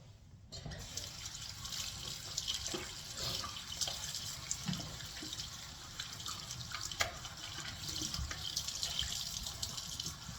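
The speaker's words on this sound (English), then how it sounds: "I'm going to rinse it with warm water." Warm tap water runs continuously over skin while a homemade coffee scrub is rinsed off, a close splashing flow with small drips and shifting spatters throughout.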